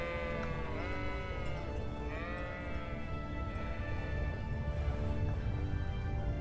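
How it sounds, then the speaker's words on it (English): Sheep bleating in the medieval role-playing game Kingdom Come Deliverance, a few wavering calls over a steady background bed of game ambience, fairly clear and close. "Alright, here's the sheep."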